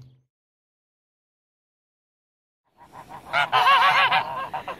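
Homestead geese honking, a loud burst of several overlapping honks breaking in suddenly after near silence and carrying on to the end.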